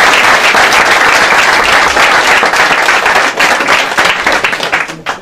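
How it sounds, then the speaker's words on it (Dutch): An audience at a primary school musical applauds the stage decor with dense, loud, sustained clapping from many hands, then it begins to thin out toward the end. "U mag even blijven klappen"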